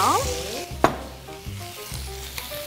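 Curry ingredients fry in a hot pan with a steady sizzle, broken by clatters of stirring and a sharp utensil knock near the middle, close and fairly loud.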